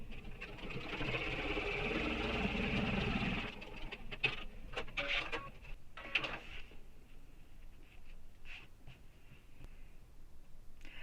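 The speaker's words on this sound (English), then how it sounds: "I'm now going to top stitch this edge." A sewing machine topstitches the front panel edge of a backpack in a short steady run of about three seconds, followed by quieter fabric handling and clicks.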